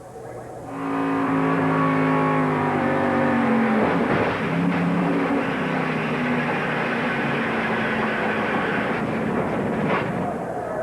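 A 1994 ARCA stock car at Daytona International Speedway, heard from the in-car camera, drones with a steady loud engine tone, then makes hard contact with another car and the wall, giving a sudden impact and a rough, prolonged roar.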